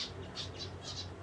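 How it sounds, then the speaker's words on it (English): A pet zebra finch calls with short, bright squeaky chirps repeated in quick bursts, close and fairly quiet over low background hum. "That's a zebra finch."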